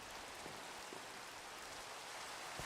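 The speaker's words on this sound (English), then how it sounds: "And it's raining." Rain in a video game, a steady even hiss of falling drops at low level, continuous and unbroken, with a few faint drip ticks and no voices.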